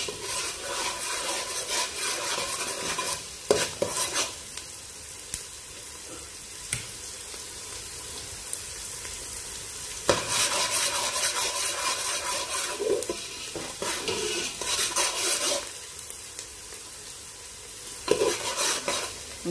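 Ginger and other ingredients for arroz caldo sauté in a pan, with continuous sizzling and frying broken by scraping and stirring strokes, close and steady throughout.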